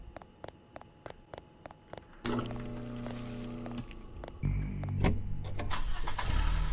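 A truck engine cranks and catches in a video game, a short starter whir followed by a steady, loud idle that steps up in intensity partway through, alone with no talk.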